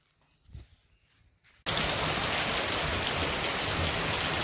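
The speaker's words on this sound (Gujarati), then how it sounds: "તારીખ પંદરનો રાણપર ગામમાં વરસાદ ચાલુ થયો" Rain starting in Ranpar village, a steady dense hiss of falling rain that bursts in suddenly after a quiet moment and continues loud and unbroken.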